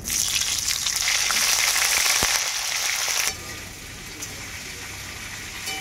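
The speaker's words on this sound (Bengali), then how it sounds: "এরপর আমি ভেজে নেব ফুলকপি।" Cauliflower frying in mustard oil sizzles loudly and steadily with a bright hiss, then the sizzle drops to a quieter, even crackle partway through.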